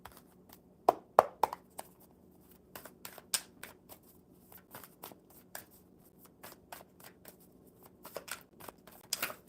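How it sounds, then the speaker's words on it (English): A deck of cards being shuffled by hand, a run of quick sharp riffling snaps and taps in uneven bursts, close and fairly quiet in a calm room. "one more good shuffle. And we'll see what the cards have to say."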